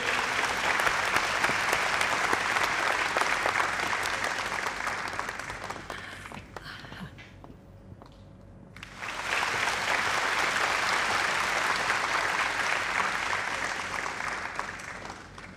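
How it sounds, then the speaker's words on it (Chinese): An audience at an annual brand gala bursts into loud, dense applause that fades to a near lull midway, then surges back just as strongly and continues to the end. "掌声欢迎"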